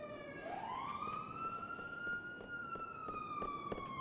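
A police siren in a video game rises and then holds a steady wailing tone, loud and clear over faint background clicks and gunfire-like taps, without speech.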